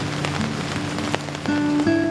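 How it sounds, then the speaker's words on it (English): Rain falls on a homeless tent camp in Haiti after a disaster, a dense patter of drops with a few louder hits and a steady tone running underneath. "As rain gently falls on Haiti"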